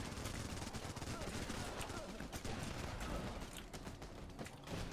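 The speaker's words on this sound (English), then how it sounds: "Tank is firing." A tank fires in the war video game Running with Rifles amid a dense, continuous roar of battle gunfire and rumbling that stays loud throughout the stretch.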